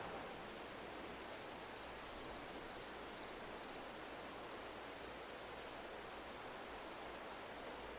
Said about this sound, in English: the rain sounds really great in this game